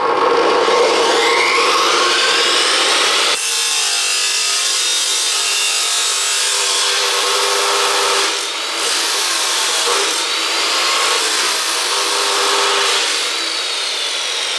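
An angle grinder powered by a DJI portable power station cuts through steel, giving a loud, continuous abrasive grinding and screech that shifts in pitch as the disc bites, close by and with no voices.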